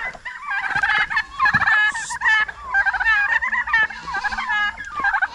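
Turkeys (pabo) kept in a farm pen alongside ducks gobble repeatedly in loud, rapid warbling bursts, several calls overlapping close by with brief pauses between them.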